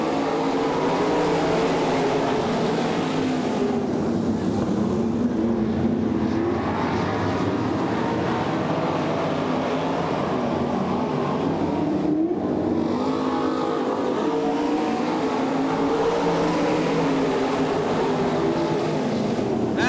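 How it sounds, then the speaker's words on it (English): Race cars roaring around a dirt track during a race, engines droning loud and steady throughout with rising and falling passes, several cars close together, no talk. "Nick Malis in the 57, about to be passed by Kirk Davis in the 6K"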